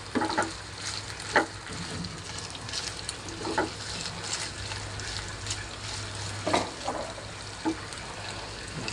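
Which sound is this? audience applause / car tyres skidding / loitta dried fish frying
loitta dried fish frying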